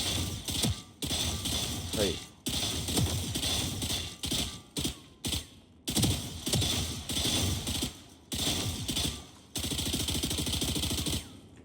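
Bursts of rapid automatic gunfire from a new gun skin in the shooter game Outlaw, loud and close, several long volleys separated by short gaps, with a voice heard over parts of it.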